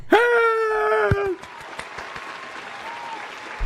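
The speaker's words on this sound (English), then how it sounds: "Applause track." A burst of canned applause from a recorded track opens loud and then cuts off abruptly, followed by a quieter background of scattered noise and faint voices.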